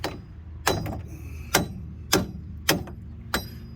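Small hammer tapping on a Mazda CX-9 knuckle assembly during a repair, five sharp metallic strikes spaced roughly evenly, close and fairly loud over a low background hum.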